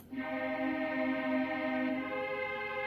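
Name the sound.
synthesizer strings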